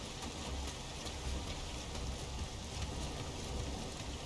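Steady rain falls in the video game Nioh, a faint, even hiss of drops on surfaces with no talking over it.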